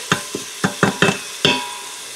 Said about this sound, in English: Give that a good stirring around.